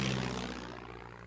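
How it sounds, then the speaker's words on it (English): A French propeller airplane drones overhead in a wartime film scene, a loud, steady engine hum that slowly fades as it passes. "It's a French plane!"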